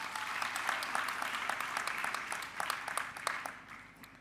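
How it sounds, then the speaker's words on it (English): Applause at an annual awards ceremony, a dense sustained wash of many hands clapping from a sizeable audience, steady and fairly loud before tapering slightly at the end. "Round of applause, please."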